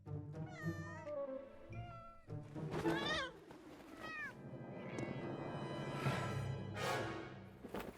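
Cats meow repeatedly in the farming life-sim game My Time at Portia, with a pink cat being rescued. The meows come loud and close in a busy run, with rising and falling wails over game background sound.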